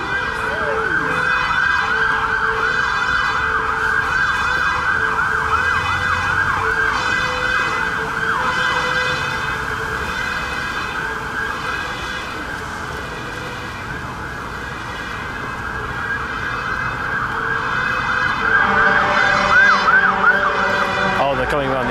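Sirens from passing fire engines in Sunderland sweep up and down without pause, loud and near, dipping slightly mid-way before swelling again over road noise.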